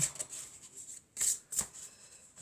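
A deck of oracle cards is shuffled by hand in a few quick riffling bursts with short pauses between, close and soft in a quiet room.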